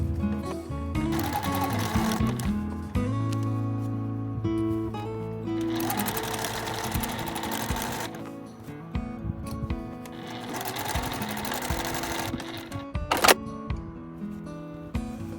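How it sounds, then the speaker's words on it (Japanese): A sewing machine stitches fabric for a tote bag in quick bursts of fast mechanical whirring, stopping and restarting several times, close and fairly quiet, with no voices. "印をミシンで縫います。"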